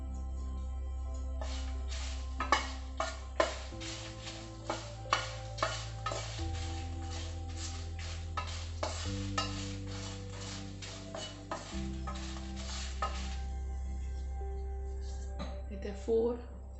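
Garlic fries in a little oil in a pan for a fish curry, with a soft sizzle under repeated scraping and clinking stirs close by. A voice speaks over the cooking.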